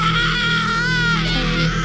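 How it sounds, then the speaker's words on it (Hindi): A woman's scream in a smoke-filled room during a Hindi horror story, a sustained high wavering shriek that rises and falls over steady low background rumble, loud and close for about two seconds. "और फिर एक चीख।"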